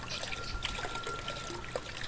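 A sink faucet in the horror game The Crooked Man runs in a continuous, fairly soft trickle and pour of water, with no talking over it.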